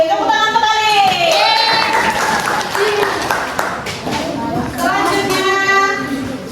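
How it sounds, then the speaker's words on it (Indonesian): Fifth-grade primary school class in Indonesia breaks into applause and cheering with shouting children's voices, loud and sustained throughout, with excited high-pitched voices rising above the clapping at the start and end. "Tepuk tangan untuk Alif"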